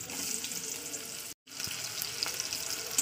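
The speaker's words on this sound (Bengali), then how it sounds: "পেঁয়াজটা প্রথমে আমি লাল দিয়ে ভাজা করে নেবো" Chopped onion frying in a little hot oil in a kadai, a soft steady sizzle and hiss with faint stirring scrapes, briefly cut to silence midway, no talking.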